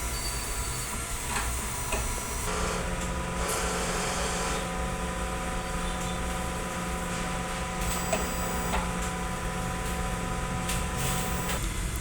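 A sublimation printer runs its head cleaning cycle, a steady mechanical hum with soft clicks and shifting motor tones, fairly quiet and close, with no talk.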